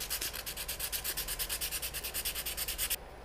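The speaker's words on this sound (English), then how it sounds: "I'll come back to you once I've sanded for an hour or so" A wooden swimbait sanded by hand, steady rapid back-and-forth rasping strokes in an even rhythm, close and continuous for about three seconds before stopping abruptly.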